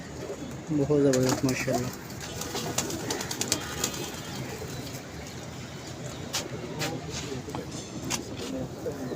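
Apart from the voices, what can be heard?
pigeons cooing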